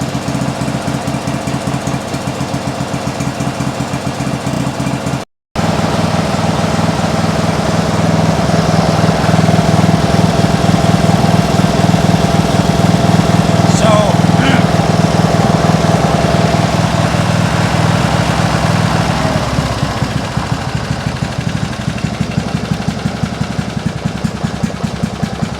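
A small engine on a trackless train runs steadily nearby with a rapid knocking chug, briefly cutting out once before continuing loud and unbroken.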